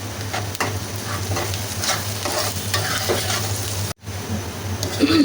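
Onion and garlic fry and are stirred in a pan with a steady, loud sizzle, spatula scrapes scattered throughout and a brief break in the sound near the end; no one speaks.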